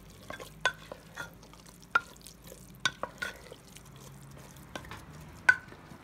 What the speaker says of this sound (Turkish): Onu da karıştıracağım.